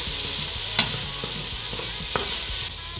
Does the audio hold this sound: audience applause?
no